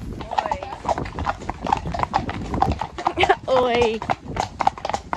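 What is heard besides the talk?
horse hooves clip-clopping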